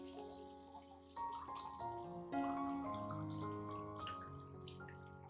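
Clean, room-temperature water pours steadily from a tap into a container to dilute fertilizer, giving a soft running and filling sound whose pitch shifts as the level rises. The sound is fairly quiet and close.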